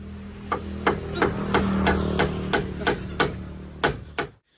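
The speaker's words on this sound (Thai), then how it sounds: "ตอกทางใหญ่มา ตอกแบบนี้" A hammer drives nails into wood sheets with about a dozen sharp, loud, evenly spaced strikes close by, ringing briefly after each blow, with no talking.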